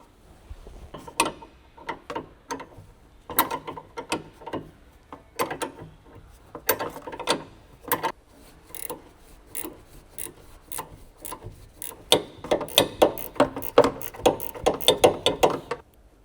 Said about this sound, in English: Insert the 10mm ratcheting wrench.